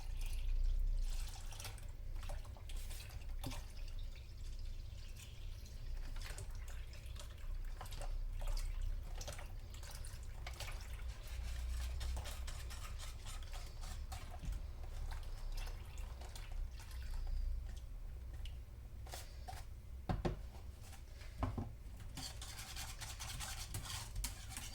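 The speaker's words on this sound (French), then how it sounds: "Ensuite, on rajoute le lait." A litre of milk pours into a pot for homemade natillas in a home kitchen, a soft continuous liquid stream with faint drips and small clinks running steadily for about twenty-five seconds, no talking.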